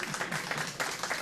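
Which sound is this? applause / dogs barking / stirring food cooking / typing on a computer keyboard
applause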